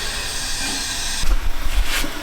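A strong fire burns in a batch box rocket stove used as a boiler, giving off a steady, loud hissing roar; partway through the roar turns rougher and rumbles in uneven low surges.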